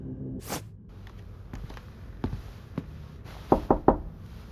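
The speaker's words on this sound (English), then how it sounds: "Should I knock on the door, or just listen for a while?" Knuckles rap on a door in a video game, a few scattered taps followed by three loud, evenly spaced knocks close up in a quiet room.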